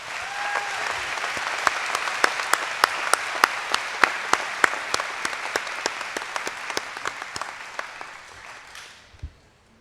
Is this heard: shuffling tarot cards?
no